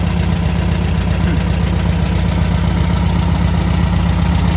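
A rebuilt engine in a rusty Volkswagen panel-van bus idles steadily, a close, loud, even low rumble with a regular pulsing beat and no voices.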